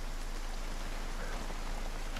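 Steady rain in the zombie survival game Project Zomboid, a constant broadband hiss filling the whole clip at a low, even level with no voices.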